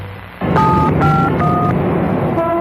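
Mobile phone keypad dialing tones from an LG Hwatong cell phone, a rapid sequence of distinct dual-tone beeps set over a steady background hum and rumble.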